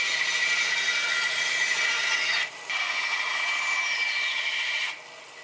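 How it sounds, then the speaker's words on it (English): A bandsaw slices a wooden Adirondack chair part along a traced profile, a steady close whine with brief dips as the cut pauses twice. "taking it to the bandsaw, cutting out right on that profile"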